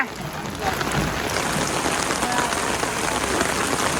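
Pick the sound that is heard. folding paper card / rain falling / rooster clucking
rain falling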